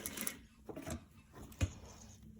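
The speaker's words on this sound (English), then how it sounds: "And I'm going to stitch all the way down." A sewing machine stitching a concave/convex seam: a faint, uneven mechanical whirring with light clicks and one sharper knock, quiet and close.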